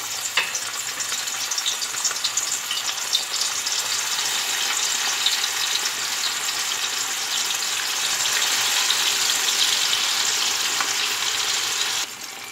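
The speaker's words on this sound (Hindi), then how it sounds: "ऑयल जो है गर्म हो गया है, अब हम इसमें फ़िश फ्राई कर लेंगे।" Marinated fish fries in hot oil, giving a steady, dense sizzle and crackle that holds evenly at close range and drops away abruptly near the end, with no talking.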